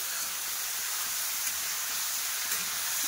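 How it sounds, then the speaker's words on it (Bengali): Beans and potatoes frying in a pan give a steady, even sizzle and hiss that holds at a constant level throughout, close by, with no talk. "শিম ভাজা বসাইছি, শিম আলু ভাজা"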